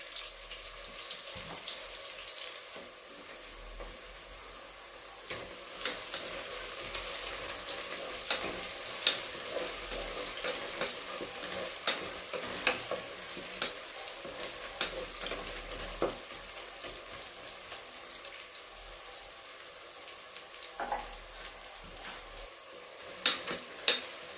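Greens are sautéed in a pan until wilted, producing a steady close sizzle with frequent stirring scrapes and occasional clicks throughout, moderately loud and without talk.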